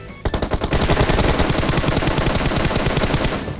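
Rapid automatic gunfire in PUBG Mobile, a loud, close burst of evenly spaced shots rattling continuously for about three seconds with no talking over it.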